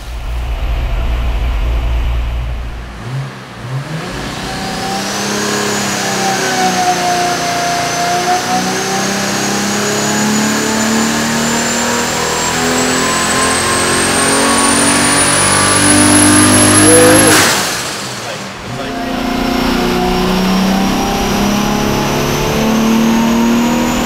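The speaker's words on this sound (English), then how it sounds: "Time for our first turbo pull." A turbocharged engine on a dyno, built in a push toward 1,000 horsepower, climbs steadily in a long, loud wide-open pull with rising whine, then cuts off sharply before settling back to a rumbling idle.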